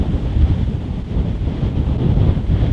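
Strong wind at an outdoor disc golf course during a championship final round, a loud, steady low roar of gusts buffeting the microphone, with no other sounds or voices.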